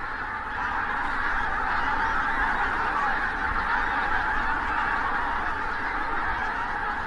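A large flock of geese honks continuously after lifting off in autumn, a dense, steady chorus of overlapping calls at a moderate distance with no talking.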